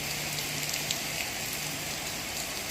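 Heavy rain falling during a bicycle trip in Ning'er County, Yunnan, a steady soft hiss and patter of drops on surfaces, fairly quiet and continuous with no talking.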